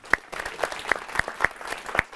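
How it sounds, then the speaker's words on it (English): A small group at a young professionals' employee event applauds to welcome Kwame Jackson. Sparse, distinct individual claps ring out at an uneven pace, fairly close and crisp, with light clapping between them. "So everyone, please give a warm round of applause to Kwame Jackson."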